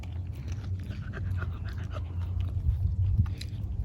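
A dog chews and pants close to the microphone, working pieces off a thick birthday cake held for him, with steady wet mouth sounds and breathing and no talk.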